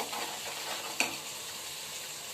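Paneer gravy bubbles and sizzles in a pan with a steady soft hiss, plus a single sharp click partway through.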